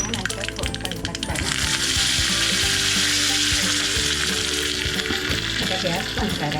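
Curry leaves sizzle in hot oil with mustard seeds and asafoetida for Gujarati khandvi, a loud continuous crackling fry with bright spattering pops close by, with brief talk underneath.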